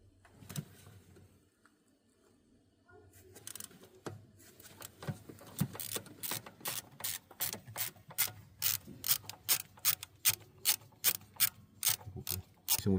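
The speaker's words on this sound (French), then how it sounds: "Donc vous vous munissez de votre cliquet et de votre embout T30 et là" A ratchet fitted with a T30 bit loosening a bolt on the turbo of a VAG 1.5 TSI engine, starting with scattered fiddling, then quickening to rapid, evenly spaced ratcheting clicks, close and loud.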